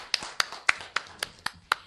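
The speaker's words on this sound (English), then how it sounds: "Let's give them a big round of applause." Several distinct, evenly spaced hand claps, about eight in under two seconds, sound fairly close and crisp, as a small audience applauds at a conference session.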